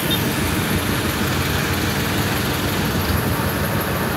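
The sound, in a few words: passing vehicles, road traffic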